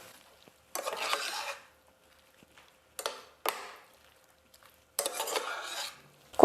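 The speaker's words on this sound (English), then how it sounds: "when your sauce is ready, you add your noodles gently." Zucchini noodles are tossed through sauce in a pan, making three separate bursts of soft scraping and wet stirring at close range between quiet pauses.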